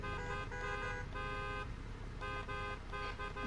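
In the racing game Need for Speed Heat, car horns honk in several sustained blasts with short gaps, over a steady engine and game background.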